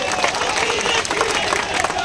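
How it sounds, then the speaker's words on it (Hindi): A crowd at a political rally in Raun addressed by Chief Minister Shivraj Singh Chouhan, applauding in a continuous wash of clapping and crowd noise, fairly distant and steady. "ताली बजा के आप स्वागत करें"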